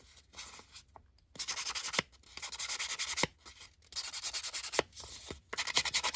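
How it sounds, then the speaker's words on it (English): Hand-held sanding disc rubbed over heavy printed paper, a series of short raspy scraping strokes in bursts with brief pauses and light taps between, close and fairly quiet. "I think I want to distress a little bit more. Where's my sanding disc?"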